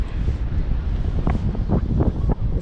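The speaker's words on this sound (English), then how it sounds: "This wind is probably really bad" Strong wind buffets a microphone on an Amsterdam street beside the water, producing loud, gusty low rumbling with brief rushing bursts throughout and no speech.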